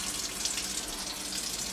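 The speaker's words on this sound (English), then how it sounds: "I let this boil a little bit too long, so I'm giving it a quick rinse" Water runs steadily from a tap over a pot being rinsed, a continuous close splashing hiss with no pauses.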